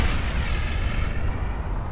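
A deep, rumbling boom rolls on continuously, heavy and dense like a distant blast, with no voices present.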